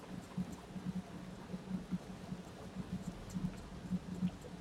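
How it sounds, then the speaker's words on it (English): Rain falls in the survival-horror video game The Evil Within, a soft, steady wash of drops with faint low rumbling thumps scattered throughout, quiet and with no talking. "It's raining."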